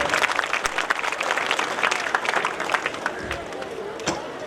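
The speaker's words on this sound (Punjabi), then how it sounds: "ਮੈਂ ਚਾਹੁੰਗਾ ਇਹਨਾਂ ਲਈ ਬਹੁਤ ਬਹੁਤ ਜ਼ੋਰਦਾਰ ਤਾਲੀਆਂ ਹੋ ਜਾਣ।" An audience at a school function claps, a dense burst of applause that is loud at first and gradually thins toward the end.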